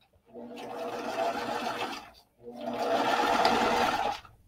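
Sewing machine stitching down the seam allowance on a see-through vinyl zipper case, running in two steady bursts of a few seconds each with a brief pause between, close and clear.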